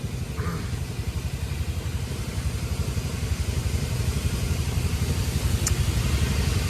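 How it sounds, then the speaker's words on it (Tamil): Road traffic with cars and motorcycles in Chennai, heard as a steady, close engine rumble that grows slightly louder throughout, with no speech. "டிராஃபிக்."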